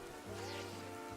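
Rain falls in the Pokémon Legends video game, a soft, steady wash of drops with a low tonal hum from game music beneath, continuous and moderately quiet without speech.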